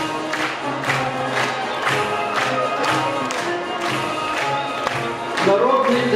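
A crowd at a children's Christmas holiday concert claps in steady rhythmic unison, fairly loud and continuous throughout, with faint music or voices underneath.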